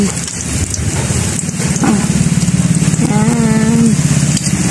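Steady heavy rain hisses on a surface, with a low rumble and some tonal voice-like sounds mixed in over the downpour.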